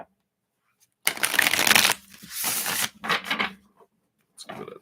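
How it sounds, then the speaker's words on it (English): Tarot cards shuffled by hand in several quick riffling bursts, each a crisp papery flutter lasting under a second, separated by brief pauses, close and clear with no talk. "Let's give these a shuffle."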